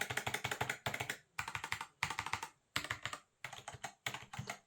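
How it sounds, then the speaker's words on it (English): Someone types on a Cooler Master SK622 wireless 60% gaming keyboard in quick flurries of crisp keystrokes, separated by brief pauses. The sound is close and clear, with no talking. "So if you look at the sound of this now, compare the two."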